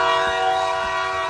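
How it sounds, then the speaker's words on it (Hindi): A train horn sounds in one steady, loud, sustained tone as a train prepares to leave a station, with no talking heard. "जल्दी जल्दी दौड़ो, ट्रेन चलने वाली है। वो सीटी मार रही है।"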